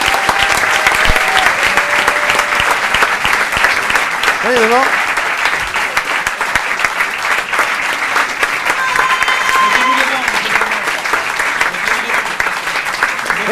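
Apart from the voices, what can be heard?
audience applause for the artists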